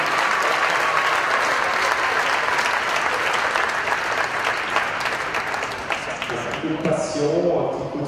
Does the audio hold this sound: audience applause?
yes